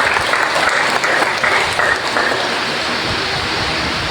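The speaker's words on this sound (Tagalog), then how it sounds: "Ito palakpakan ng Diyos." Applause ringing out during a Sunday church service, a steady broadband wash of many hands clapping at once, loud and sustained without a break.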